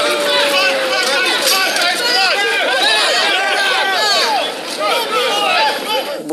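A crowd of protesters roars with loud, overlapping shouting and agitated chatter as undercover police drag people out of the crowd, with many voices crying out at once throughout.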